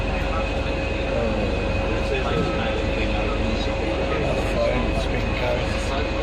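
Steady rumbling rail noise from a steam train journey between Amersham and Harrow, with a continuous mechanical drone and faint whine throughout, voices murmuring over it.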